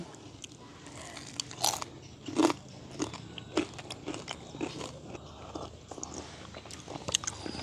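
Crunchy fried cassava bonda snacks being bitten and chewed up close, with a run of crisp bites and crackling chews, some louder crunches standing out against a quiet outdoor village background and no talking.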